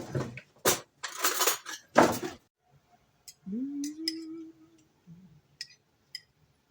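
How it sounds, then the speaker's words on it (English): A spoon clinks and scrapes against a dish of homemade chicken soup in a few short, sharp taps and rattles, close and fairly quiet, with gaps between them. "Let's get the spoon out."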